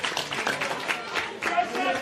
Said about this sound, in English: Gets a round of applause from the crowd